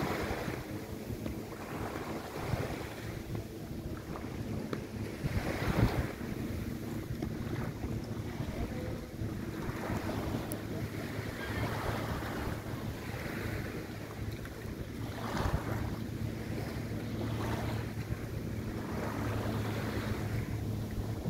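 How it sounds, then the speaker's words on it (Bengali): Waves washing and wind buffeting near a traditional Thai long-tail boat at Phi Phi Island, a steady rushing wash with a low engine-like rumble underneath and periodic swells, no voices. "এই long tail boat, typical traditional থাই লং টেল"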